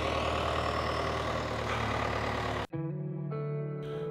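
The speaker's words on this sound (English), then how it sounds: "Tractor beats man today." A tractor engine runs in a rough, heavy drone for over two seconds, then cuts abruptly into a steadier, cleaner mechanical hum that shifts pitch in steps.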